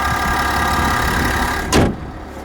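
A 2021 GMC Yukon Denali's diesel inline-six runs at a steady, close, even idle drone, broken near the end by a brief louder thump or whoosh before the engine hum carries on.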